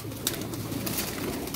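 Pigeons coo softly in a loft, low rolling calls overlapping in a steady murmur close by, with no one speaking.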